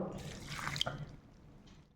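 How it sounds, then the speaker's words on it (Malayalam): A little water is splashed into a pressure cooker holding ash gourd pieces with salt and turmeric, a short close pour lasting under a second before fading to quiet. "പിന്നെ കുറച്ച് വെള്ളം ഒഴിക്കണുള്ളൂ"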